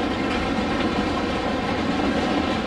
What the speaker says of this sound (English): eastbound intermodal train at CP Draw